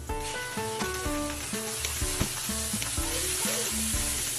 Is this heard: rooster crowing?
no